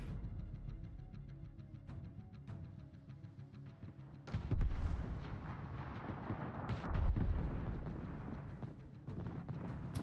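Heavy naval shell hits and explosions in a World of Warships battle, deep booming impacts rising around the midpoint and again later over a constant rumble of gunfire and engine noise, with no talk.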